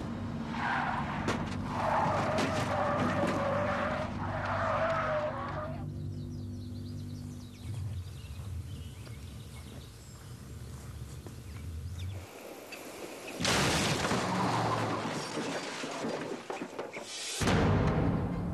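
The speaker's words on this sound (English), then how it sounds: "When we come back, Aaron learns why he spun out." A car skidding and spinning out on a driving course after speeding up to 80, with harsh bursts of tire squeal and rumbling engine noise, loud at times and fading between bursts.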